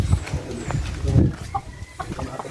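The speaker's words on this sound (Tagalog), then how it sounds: "Yung mga manok kasi dito guys" Chickens cluck and murmur close by in a short burst of soft, repeated low calls, mixed with scattered farmyard bird noises; no talking.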